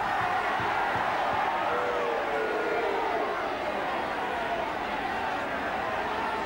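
Rugby league crowd at a 1990 Balmain Tigers versus Brisbane Broncos match, a steady loud roar of shouting and jeering spread across the stands, aimed at a cameraman on the touchline, continuing without a break.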